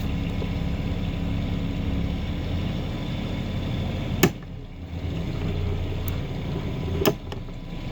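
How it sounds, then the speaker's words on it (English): A sailing catamaran's starboard engine runs in forward gear with a steady low droning hum, close by, broken by two sharp knocks. "Alright, starboard engine in forward."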